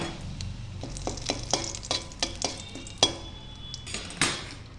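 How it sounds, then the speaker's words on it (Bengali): Dry red chilli and bay leaf fry in hot oil in a wok, a soft steady sizzle with a series of sharp metallic clinks and scrapes from stirring, close and quiet, no voices. "আমি কড়াইতে তেল দিয়ে তেলটা গরম করে নিয়েছি আর এর মধ্যে দিয়ে দিচ্ছি শুকনো লঙ্কা"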